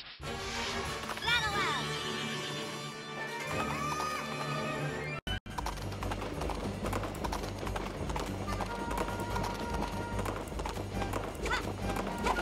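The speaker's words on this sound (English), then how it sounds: "The horse came right on time." A horse gallops in the Princess Peach: Showtime video game: rapid clip-clop hoofbeats that run over game music and effects, broken by a brief dropout midway, then continuing steadily to the end.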